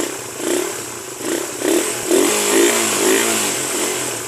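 A carbureted Suzuki Raider 150 motorcycle engine runs close by, its steady idle lifted by several short revs that rise and fall in quick succession, with no talking over it.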